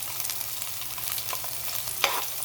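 Ginger, garlic, onions and chili frying in oil, a continuous crackling sizzle with quick scraping stirs of the spatula, close and without talk.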